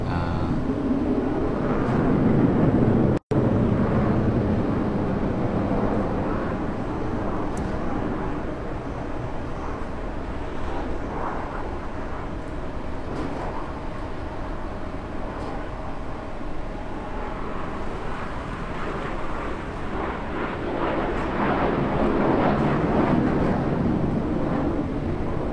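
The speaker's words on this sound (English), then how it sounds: "this is the latest China jet" Chinese L-15 Falcon jet fighter-trainer performing at an air display, a continuous loud, rumbling jet roar that swells and fades slightly as it manoeuvres overhead, with no talking.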